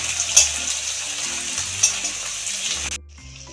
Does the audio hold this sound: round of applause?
no